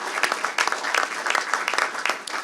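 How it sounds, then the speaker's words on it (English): A seated audience at a biosecurity exercise briefing applauds the exercise team, a short, fairly dense burst of clapping from a modest group that stays even throughout. "A round of applause for the guys"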